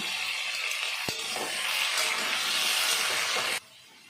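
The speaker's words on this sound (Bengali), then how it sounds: "আলুটা আমি ভেজে নেব" Potato pieces fry in hot mustard oil with salt for a Bengali koi fish curry, giving a loud, steady sizzle that holds for a few seconds and then cuts off abruptly.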